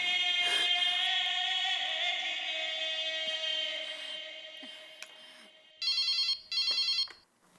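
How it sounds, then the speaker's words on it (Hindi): A telephone rings in a household scene of a Hindi TV sitcom: a long electronic tone fades out, then two short loud trilling ring bursts follow near the end, with no talking. "एक बार टप्पू के पापा को फोन करके पूछती हूँ।"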